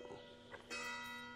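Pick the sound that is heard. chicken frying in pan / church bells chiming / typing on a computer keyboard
church bells chiming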